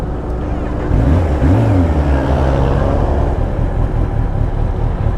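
A superbike engine is heard during a ride through Dubai heat, its drone rising and falling in pitch beneath loud, constant wind roar, close and powerful throughout.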